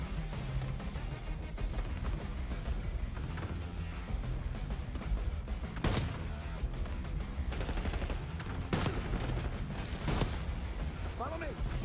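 Gunfire in the shooter game Call of Duty Black Ops 6, with dense bursts and sharp loud blasts mixed with explosions over several seconds, while a player talks over it.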